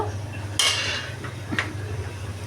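A spoon stirs lentil dal in a cooking pot, with one loud metallic scrape and clink followed by a softer second knock over a low steady hum.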